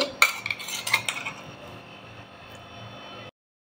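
Ground marinade paste with lemon and salt being worked onto prawns in a bowl, with a few sharp clinks and wet scraping at the start, then a steady low rustle and hum that stops abruptly.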